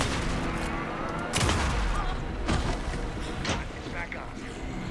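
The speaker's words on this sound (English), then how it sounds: "Anderson, pin him down with gunfire for me to get the light on him." Bursts of gunfire in the video game Alan Wake 2, several sharp shots scattered across a tense firefight with heavy layered ambience.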